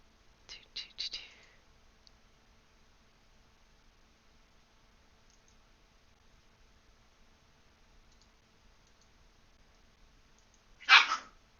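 A pet dog gives a quick cluster of sharp barks near the start, then after a long quiet pause one more bark, close and fairly loud against near silence.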